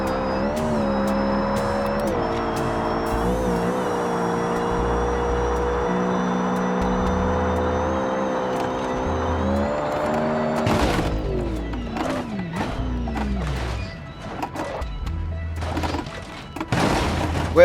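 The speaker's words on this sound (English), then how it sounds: "Why is it whining like it has a supercharger?" Turbocharged hatchback engine in BeamNG.drive holds a high, steady whine with rising and falling revs during driving, then tires squeal and skid with sharp knocks near the end, loud and close.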